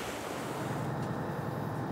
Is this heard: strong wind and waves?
yes